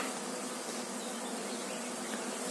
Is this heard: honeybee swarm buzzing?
yes